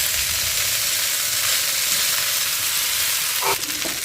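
Eggs and pasta fry in a home kitchen pan, giving a loud, steady, close sizzle and hiss with a brief utensil scrape near the end.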